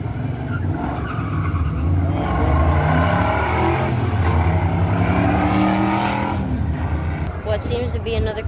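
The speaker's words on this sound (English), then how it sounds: "What seems to be another Camaro against the Mustang." A Camaro and a Mustang roar off the line at a drag race held at a car show, engines revving hard with tire squeal. The sound is loud and steady, with people talking over the noise throughout.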